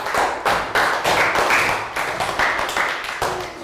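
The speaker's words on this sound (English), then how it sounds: "Round of applause" Classroom applause from a small group of pupils, uneven bursts of hand claps and taps in a quick rhythm, close and fairly loud, with no talking.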